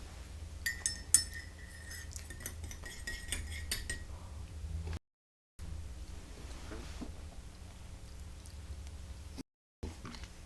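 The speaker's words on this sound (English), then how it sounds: "And this tea's hot, won't take long to stir up." A spoon stirs meadowfoam honey into hot tea in a cup, ringing out a quick run of bright metallic clinks against the ceramic, then quieter scattered taps and soft handling noise with short silent gaps.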